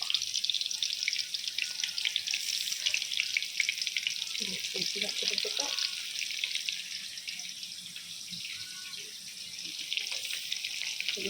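Potato chips fry in oil over low heat, giving a steady hissing bubble that runs the whole time. A few soft knocks and clinks sit underneath it.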